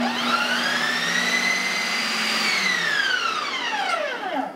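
An ice cream machine churning a batch of frozen keto ice cream on a respin, a loud steady motor whine that rises in pitch, holds, then winds down toward the end, with no speech.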